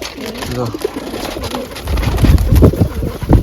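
Pigeons coo softly in low, throaty bursts nearby, with some bird fluttering and a person speaking over them.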